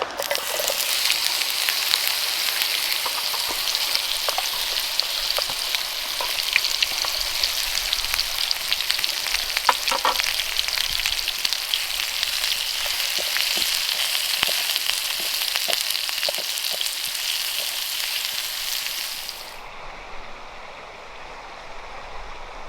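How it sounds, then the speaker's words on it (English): Onion frying in oil in a pan on a multifuel camp stove at a wild campsite, a steady loud hiss and sizzle with scattered pops and crackles that drops to a quieter hum near the end. "A little bit more oil. And in goes the onion."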